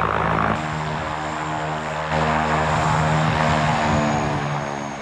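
A Vultee V-11 propeller aircraft drones past in flight, its engine a loud, steady hum with a layered throbbing tone that holds without a break for several seconds.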